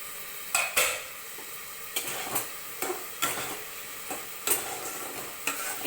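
Food fries in a pan with a steady sizzle, broken by several sharp scrapes and clinks of a utensil stirring against the pan. No one speaks.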